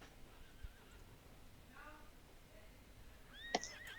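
A horse whinnies briefly in the online riding game Star Stable Online, a short high call near the end, faint under a quiet background with soft hoof-like clops earlier.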